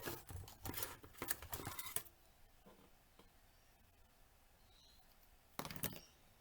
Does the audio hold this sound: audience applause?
no